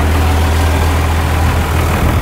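A 2001 Cummins VP44 diesel truck engine with a new ATS Aurora 3000 turbo idles with only part of its exhaust fitted, giving a steady, loud, low rumble that holds without a break throughout.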